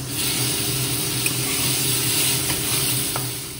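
Potatoes tipped into hot oil with spice tempering, giving a loud, continuous sizzle with a frothy crackle and faint clinks of stirring, close by with no voices.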